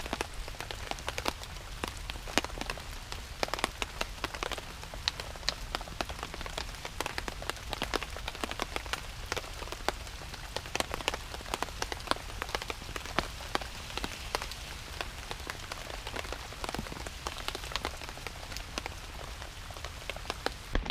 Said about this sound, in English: It's definitely raining outside.